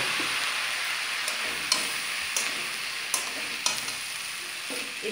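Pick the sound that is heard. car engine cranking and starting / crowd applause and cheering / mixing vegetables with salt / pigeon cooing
mixing vegetables with salt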